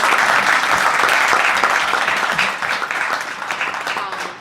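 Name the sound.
audience applause for panel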